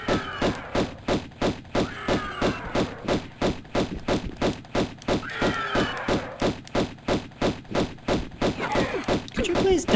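Rapid, steady gunfire from Tomb Raider Remastered pistols, evenly spaced loud shots for the full stretch, with animal cries and a voice talking in between.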